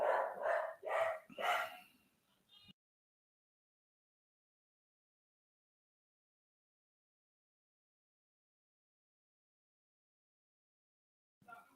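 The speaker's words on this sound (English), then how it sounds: "my dog's gonna bark every time" A dog barks three or four times in a quick, loud burst close by, then silence, with a faint brief sound returning at the end.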